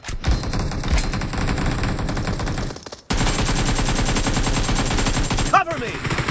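Dense, continuous gunfire from the mobile battle-royale game BGMI, with rapid automatic bursts that run almost without pause and a brief gap near the middle before the firing resumes just as loud.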